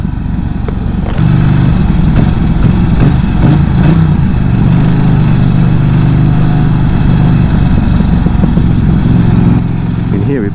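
A Norton Commando 961 motorcycle engine idles with a loud, close, low burble throughout, steady and rumbling.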